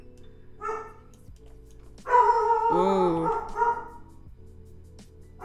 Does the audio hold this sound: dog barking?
yes